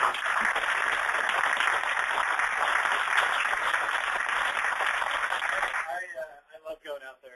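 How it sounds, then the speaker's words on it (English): Conference audience applauding at an entrepreneurs-in-residence event, dense sustained clapping for about six seconds that then cuts off abruptly into a brief quieter tail. "one more round of applause for everybody"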